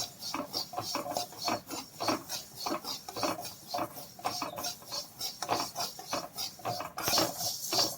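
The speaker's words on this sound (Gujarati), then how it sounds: "અળસીને શેકી લઈએ" Salted turmeric flax seeds are dry-roasted in a pan and stirred in rapid, repeated rasping strokes. The seeds rattle and scrape against the metal in an irregular rhythm, close and fairly loud, with no talk.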